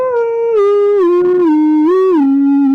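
A human voice imitates the wolf howl from a halftime song, a loud sustained wavering tone that slides down and back up in pitch.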